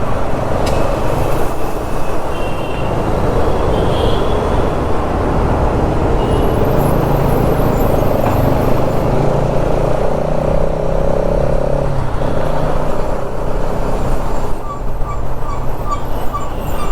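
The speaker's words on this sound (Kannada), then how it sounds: "ರೋಡ್ಗಳು ಇಷ್ಟು ದೊಡ್ಡದಾಗಿದೆ ಆದ್ರೂ ಟ್ರಾಫಿಕ್ ಆಗತ್ತೆ." Continuous road traffic rumble near a busy railway station in Bangalore, a loud steady wash of engines and tyres with no pauses, heard close and filling the whole stretch without any voices.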